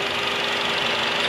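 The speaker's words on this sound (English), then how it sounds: "4-cylinder engine there." Nissan Versa 2009 1.8-litre four-cylinder engine idling under the hood, a steady close hum with a faint rhythmic knock, no voices.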